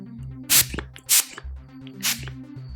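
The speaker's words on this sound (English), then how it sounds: "I'm going to use the Oil Eliminator spray from Kiehls." Three quick hissing spritzes of Kiehl's Oil Eliminator face spray, evenly spaced and close, over a faint low background hum.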